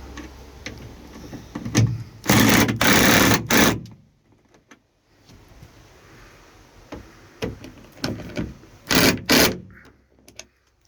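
A power driver with a Torx bit sinks a screw into a timber ceiling batten inside a Ford Transit Connect van, two short loud whirring bursts separated by quieter handling noises and a lull.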